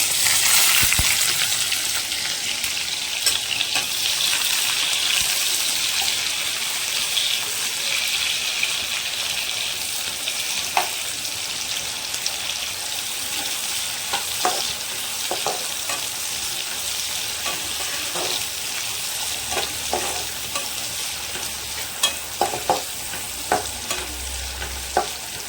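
Chopped raw onion frying with chilli in a hot pan, a continuous loud sizzle with occasional stirring clinks and scrapes, close and steady without talk.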